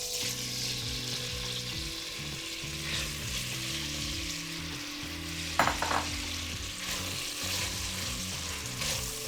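Thinly sliced onions frying in a pot sizzle steadily while being stirred, the hiss loud and close with a brief scraping clatter near the middle. No one speaks.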